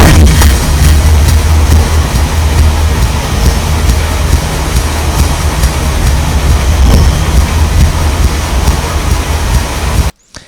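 Dense, loud, smeared phase-minimized music with a constant low rumble and blurred texture plays continuously, then cuts off abruptly near the end.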